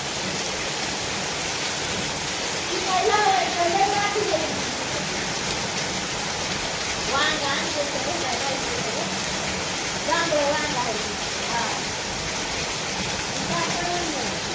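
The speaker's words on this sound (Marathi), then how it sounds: "शांत पाऊस चालू आहे आपल्याकडे" Gentle rain falling steadily in a village, a soft continuous hiss of drops with a voice speaking now and then over it.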